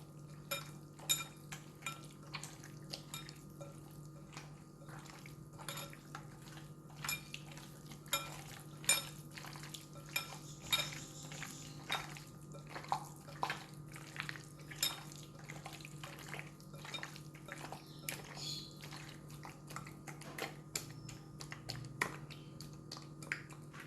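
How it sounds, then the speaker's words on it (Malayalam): Raw chicken is kneaded by hand with salt and spices, giving soft, wet squelching and slapping sounds in an irregular rhythm, close and quiet over a low steady background hum. "നന്നായി കുഴച്ചെടുക്കാം."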